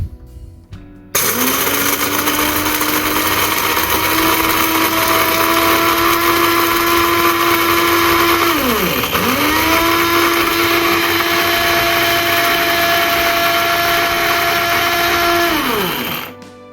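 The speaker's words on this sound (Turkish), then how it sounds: "Kahve ve baharat öğütücümüzün fişini de taktıktan sonra öğütme işlemine geçelim" Electric Musullu coffee and spice grinder grinding coffee beans, a loud steady motor whine running alone for about fifteen seconds, briefly dipping in pitch midway before spinning back up and winding down at the end.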